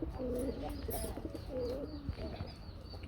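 Pigeons in a breeder's loft give soft, repeated throaty coos close by at a low level, with a faint voice in the background.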